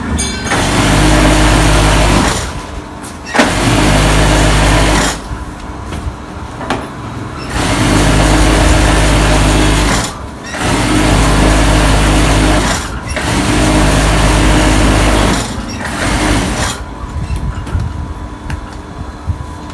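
A sewing machine for curtain work, driven by its motor pedal pressed to full speed, whirs loudly in runs of about two seconds. Short stops break the runs as the machine starts and stops again, with no voices.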